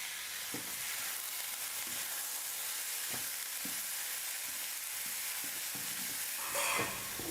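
Onions and boiled vegetables sautéing in a pan, a steady hiss of frying with periodic spatula knocks and scrapes, close and unvoiced.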